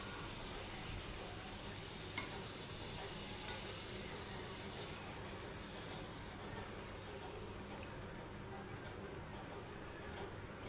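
Puris frying in hot oil, one side at a time, give a steady broadband sizzle that runs evenly throughout with one brief sharp pop near the start.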